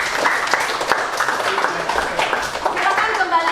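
Students in a classroom applaud after group presentations, lively clapping from a small group close by with voices mixed in over the clapping.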